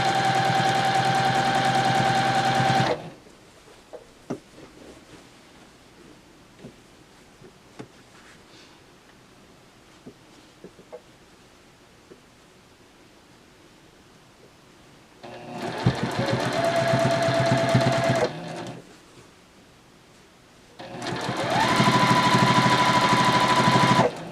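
Sewing machine running fast to stitch binding onto a crochet blanket, loud steady whirring bursts that stop and start, with quiet gaps of small ticks and handling sounds between runs.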